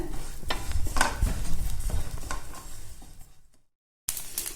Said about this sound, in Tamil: அரிசி பாருங்க நல்லா பொரியுது, படப்படன்னு பொரிஞ்சிட்டு இருக்கு பாருங்க